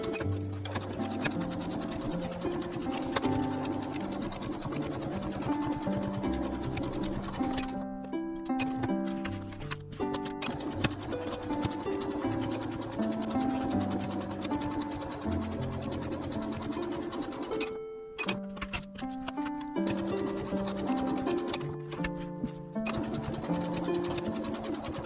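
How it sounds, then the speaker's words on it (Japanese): Sewing machine stitching fabric all the way around a box cover, with a steady mechanical whir broken by brief pauses, heard alongside background music. "中表に合わせてちり合わせて、ここ10センチ開けてここぐるりっと縫っていきます。"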